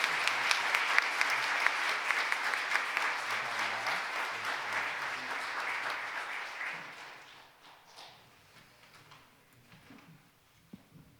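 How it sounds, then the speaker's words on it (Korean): Church congregation applauding retiring deaconesses at a special retirement thanksgiving service: full, even clapping that gradually thins and fades after about seven seconds, leaving scattered faint claps at the end. "수고해 주신 우리 권사님들께 박수로 우리 인사드리겠습니다"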